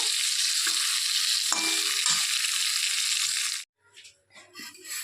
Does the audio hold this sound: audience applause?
no